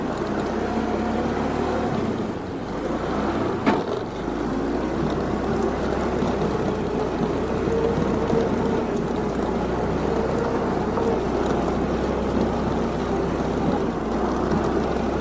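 Scooter towing a homemade farm trolley climbs a slope in first gear, a steady strained engine drone with wind-like rumble throughout, fairly loud and continuous, one brief knock partway through.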